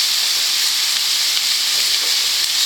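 Seasoned pork loin chunks searing in a pan, a loud, dense, continuous hiss of sizzling fat close up, no voices.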